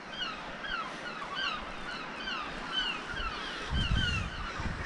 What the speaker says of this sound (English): Seagulls are having an heart attack that I'm here.